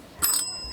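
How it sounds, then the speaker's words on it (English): A single bright ding of a small bell, struck once and ringing briefly with a short, clear decay, fairly quiet and alone. "You can ring the bell on me."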